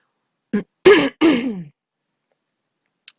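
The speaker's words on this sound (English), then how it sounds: "I'm sorry for clearing my throat." A person with asthma clears their throat in a few short, harsh bursts close to the microphone, followed by silence.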